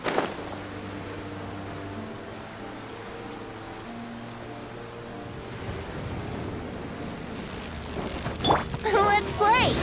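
Steady rain falls in the video game Genshin Impact, a soft constant hiss under a low musical drone, with brief louder sounds and voices near the end.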